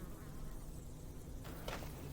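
Faint insect buzzing around the Ganea AP company's beehives, a soft steady drone under light outdoor ambience, with a brief louder buzz as a bee passes near the end.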